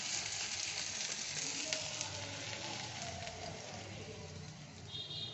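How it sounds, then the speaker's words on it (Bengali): Chicken frying in a pan for chicken do pyaza as ingredients are poured in, giving a continuous soft hiss and sizzle at moderate distance with no voices. "আর এই চিকেনের মধ্যে এগুলো সব ঢেলে দিচ্ছি।"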